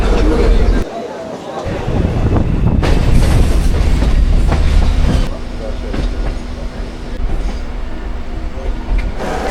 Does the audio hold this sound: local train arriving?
yes